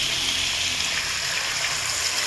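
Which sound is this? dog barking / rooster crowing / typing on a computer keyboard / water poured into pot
water poured into pot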